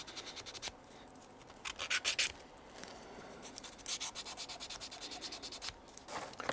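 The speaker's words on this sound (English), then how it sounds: "that's all the parts are now sanded up and ready to go" Parts of a wooden model railway kit are sanded to remove leftover tabs, giving repeated rubbing, abrasive strokes in bursts, close and fairly soft, with no talking.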